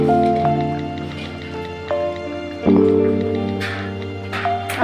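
Chicken curry in an oily gravy is stirred in a cooking pot, giving soft wet squelches and a few sharper utensil knocks against the pot over a steady low background hum.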